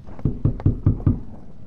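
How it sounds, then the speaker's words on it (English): A knock on a door in the Roblox horror game DOORS: five evenly spaced, loud hollow raps in quick succession, heard alone. "I heard a knock."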